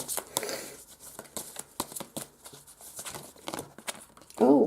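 Tarot cards shuffled by hand in a quiet room, giving a run of crisp, papery flicks and soft riffling snaps at an uneven pace, close by, with a voice breaking in at the very end.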